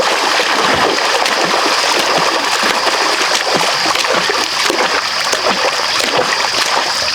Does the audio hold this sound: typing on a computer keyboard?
no